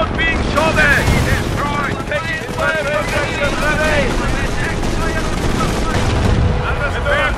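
Gunfire in a World War II battle in the strategy game Company of Heroes, Operation Market Garden at Wolfheze: dense, continuous bursts of rifle and machine-gun fire crackle throughout, with voices shouting over the shooting.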